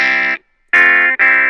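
A Casio Privia Pro PX-560 keyboard plays through a distortion amp effect, three loud sustained gritty chords with bright buzzing overtones, separated by a short silent gap and a quick break.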